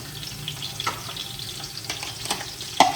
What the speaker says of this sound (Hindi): अब इसके अंदर जा रहा है अदरक लहसुन का पेस्ट।